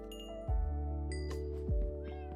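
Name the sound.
cat meowing in the video game Minecraft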